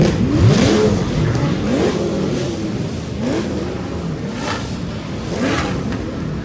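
Roughly 400 Corvettes fire up and rev together at a car gathering, a dense, loud wash of overlapping engine roars with repeated rising rev sweeps rolling through the crowd.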